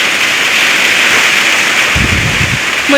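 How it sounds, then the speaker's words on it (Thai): Rain falls during a storm over a rice field shelter in rural Thailand, a dense, loud hiss that runs steadily throughout, with a brief low rumble of wind partway through. "มืดๆพี่น้องเลยฝนตกมาตอนนี้"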